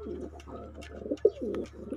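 Racing pigeons coo close by in a loft, a series of low, rolling throaty coos in short repeated phrases, with a brief sharper note midway.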